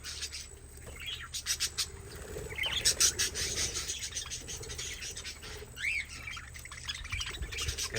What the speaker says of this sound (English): the budgies are the ones who are going crazy